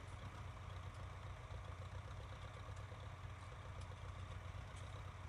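An old grey Ferguson tractor engine idles in Farming Simulator 19, a steady low rumble with an even throb that holds unchanged from start to finish.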